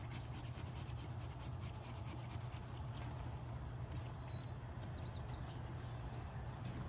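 A small saw rasps steadily through the flesh of a carved pumpkin jack-o'-lantern while detailing an eye, producing a continuous close scratchy rubbing with quick repeated strokes and faint bird chirps in the background.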